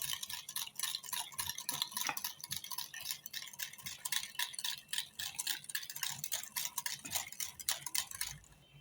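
A utensil stirs yogurt cake batter in a bowl, producing steady rapid clicking and scraping taps close by with no voices.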